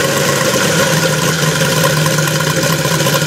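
A repaired Evo 160 engine idling smoothly after a new ignition unit, a steady close mechanical drone with even low pulsing and no voices.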